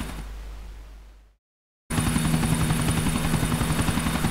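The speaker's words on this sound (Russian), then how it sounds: "Вертолет что-то медленно летает, мне кажется." Helicopter in Grand Theft Auto IV, a loud, steady rotor drone with rhythmic blade chop that cuts out to brief silence and then resumes at full strength.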